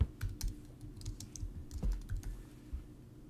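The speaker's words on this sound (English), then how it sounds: "And I'll just type in Tony" Close computer keyboard typing while entering a name into a Photoshop Elements text layer, a quiet run of irregular key clicks in short bursts with small pauses and no speech.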